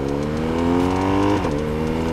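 A BMW R1250RS motorcycle engine revs high and loud, its tone climbing steadily before a sharp quickshifter gear change about midway, then pulling on again with a steady drone.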